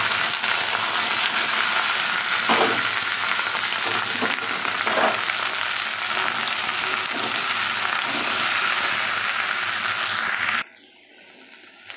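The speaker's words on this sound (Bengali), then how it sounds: "দেখো, তেল গরম হয়ে গেছে, একটু ভেন্ডিগুলো লাল করে ভেজে নেব।" Okra sizzles loudly and steadily in hot oil for about ten seconds, with faint stirring scrapes, then the frying noise cuts off abruptly.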